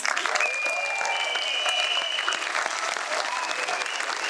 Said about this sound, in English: keep giving them a huge round of applause, parents